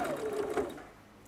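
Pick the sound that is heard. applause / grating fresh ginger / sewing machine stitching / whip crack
sewing machine stitching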